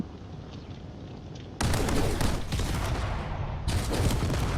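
Homing missiles slam into a fighter craft in the Drone Wars space game, a rumbling barrage of blasts that jumps suddenly to full loudness and keeps pounding in dense, overlapping bursts.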